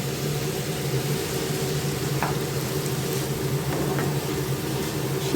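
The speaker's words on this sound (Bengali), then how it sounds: "এখন সাতলানো হয়ে গেছে, তাই ফুলকপি আলুটা মিক্স করে দিচ্ছি।" Cauliflower and potato frying in a pan, a steady loud sizzle running throughout, with a few faint scrapes and clinks from stirring.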